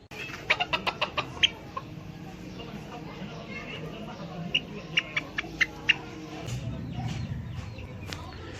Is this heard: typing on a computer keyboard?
no